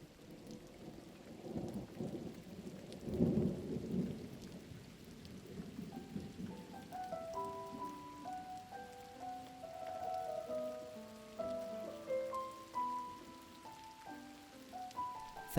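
Steady rain with deep rolls of thunder, the rumble swelling early then easing, while soft melodic tones rise over the storm for an immersive reading set in a tower; no voices.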